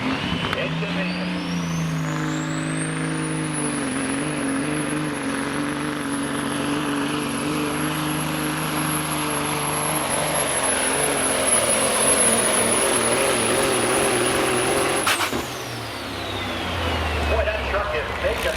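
Engine of a 1987 Freightliner truck hauling at a truck and tractor pull, a loud sustained diesel roar with climbing whine and rising strain lasting about fifteen seconds before cutting off abruptly, with crowd and announcer talk underneath.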